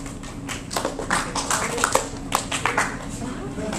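A single person demonstrates clapping twice for a running camp lecture audience, with sharp hand claps standing out over a room's background murmur and talk.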